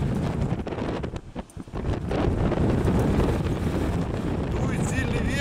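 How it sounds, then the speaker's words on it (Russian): Strong gusts of wind batter the microphone outdoors beside a lake and river near a village, a dense steady roar that dips briefly before returning at full force. "Дует сильный ветер."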